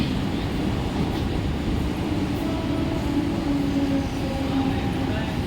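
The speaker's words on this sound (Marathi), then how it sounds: "प्लॅटफॉर्म क्रमांक 1 पर आई हुई लोकल 10:27 की ठाणे जाने वाली धीमी लोकल है।" A Mumbai slow local train bound for Thane stands at platform 1 of a suburban station, giving off a loud, steady rumble with a platform announcement voice carrying over it.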